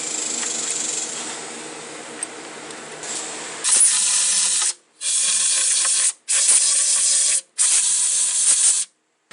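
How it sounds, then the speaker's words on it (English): Compressed air blasts cleaning an engine mating surface on a 2001 Chevrolet Silverado during knock sensor replacement: a softer hiss first, then three loud, close bursts of spraying air separated by short pauses. "Clean the mating surface off, then I'll blow it out with air."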